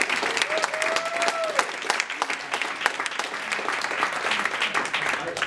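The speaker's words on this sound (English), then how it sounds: "Can I just get a round of applause for Jennifer and what she's done for the last 2 years?" An audience at an employer panel event gives a sustained round of applause, dense steady clapping throughout with a murmuring crowd.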